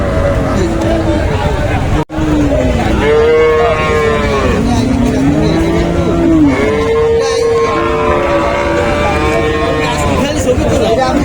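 Cattle moo repeatedly in long, rising and falling calls, several animals close and further off, at a very big cattle market in Ikhri, Terokhada, Khulna, over a steady crowd hubbub with people talking throughout.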